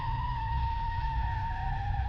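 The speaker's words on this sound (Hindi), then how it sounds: "गाड़ी चीखती हुई रुकती है।" Car braking hard and skidding to a stop, a steady, loud tire squeal with a sustained whine over a low engine rumble, heard close and continuous throughout.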